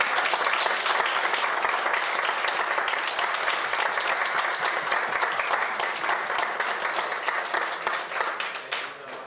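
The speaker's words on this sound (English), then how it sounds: "let's give our candidates a round of applause" Sustained applause from a candidates forum audience on housing and transportation, dense steady clapping that holds strong for several seconds before tapering slightly toward the end, with no voices over it.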